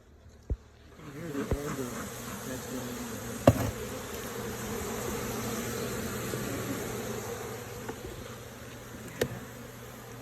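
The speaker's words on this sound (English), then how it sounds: "They're going right for the face. Now they're getting their comb ripped open. They're not happy bees." Angry Africanized honeybees swarm during a hive inspection as the comb is ripped open, a dense, steady, close buzz with a few sharp knocks and thumps, and no talking.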